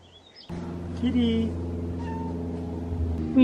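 A cat meows in a home where a heavily pregnant goat is kept, a short drawn-out call rising over a steady low hum, close by and fairly clear.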